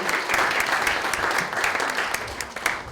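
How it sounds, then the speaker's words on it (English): An audience at a workshop on California water and new dams gives a lively round of applause for the panelists. The clapping is dense and close, swelling and dipping slightly over three seconds. "big round of applause for our panelists"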